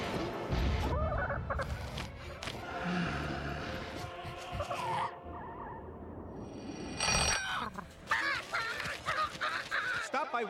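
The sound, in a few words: chicken clucking in a casino advert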